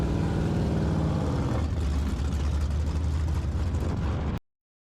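Pure Stock race cars roar through a heat race at Vado Motor Speedway, a loud, dense engine drone with a rising rev as the pack passes, cutting off abruptly at the end.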